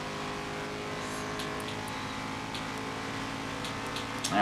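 Prototype race cars running the Daytona 24 in a racing video game give off a steady, layered engine drone. It holds constant throughout and surges louder near the end, with no talking.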